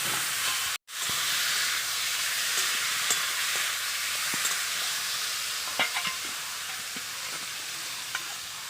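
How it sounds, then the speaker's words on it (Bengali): Spice paste stir-frying with taro leaves and released water in a pan, giving a loud continuous hissing sizzle with faint scrapes of stirring, close up and with no talk. "মশলাটা কষে নিচ্ছি ভালো করে"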